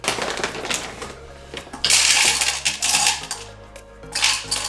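Chocolate callets blitzed in a food processor, a loud hard rattling and clattering of small pieces against the bowl in bursts, with the motor surging and dropping between pulses, no voices.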